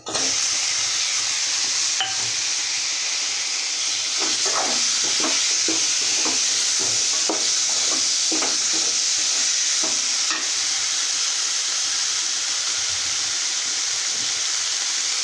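Tomato pieces fry in a hot pan for a spicy egg curry, a loud continuous sizzle with a run of quick stirring scrapes in the middle, then steady hissing.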